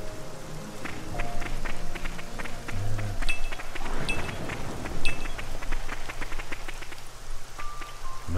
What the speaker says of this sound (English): Seems like it's always raining when I skip travel here.